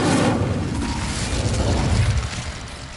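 Incendio fire spell cast in the Hogwarts Legacy video game, a loud whooshing burst of flame with a low rumbling roar that fills the whole stretch and eases slightly toward the end, with no talking.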